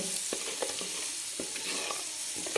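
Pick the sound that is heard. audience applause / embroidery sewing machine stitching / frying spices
frying spices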